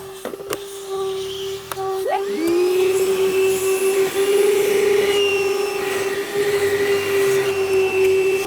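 A Hercules shop vacuum runs close and loud, a steady high whine with a broad rushing airflow roar that rises slightly in pitch as suction builds.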